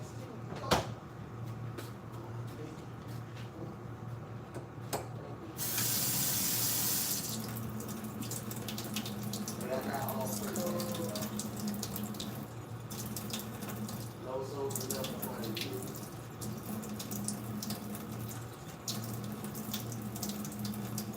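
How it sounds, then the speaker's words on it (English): Cold water running from a kitchen tap into a bowl while making curry chicken, a steady close stream that swells louder for a moment, with clinks and cupboard knocks around it. "I'm gonna put some cold water in there"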